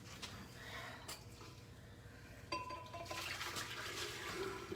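Hot water runs from a tap for washing wool, a steady splashing, trickling flow that grows fuller and brighter partway through, heard fairly close with no talking.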